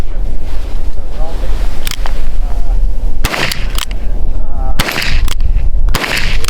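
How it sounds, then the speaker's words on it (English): Shots from a Smith & Wesson double-action revolver ring out outdoors in several loud, sharp bursts spaced a second or so apart, over steady wind noise on the microphone. "shooting Joe's Smith & Wesson. I'm always partial to a good double action"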